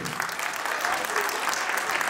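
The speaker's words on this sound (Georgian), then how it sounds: "ჩვენი აპლოდისმენტები დარჩი იაკბელიძეს" Audience applause at a children's folk ensemble reporting concert, a dense, steady wash of clapping sustained throughout at close range with no talk over it.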